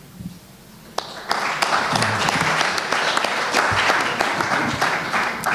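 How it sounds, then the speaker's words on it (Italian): Audience applause at a live Italian concert or recital breaks out after a quiet moment, a dense, steady clapping from a sizeable crowd that stays loud and sustained to the end. "Proviamo a non applaudire se non alla fine dei tre"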